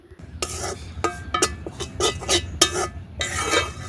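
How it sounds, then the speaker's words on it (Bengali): Rice flour is stirred as it dry-roasts in a wok, with a run of close, irregular scraping strokes of a utensil against the metal and a faint sizzle beneath. "চালের গুঁড়োটা হচ্ছে আমি একটু ভেজে নেব কিছুক্ষণ"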